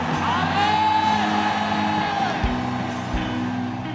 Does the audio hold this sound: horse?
no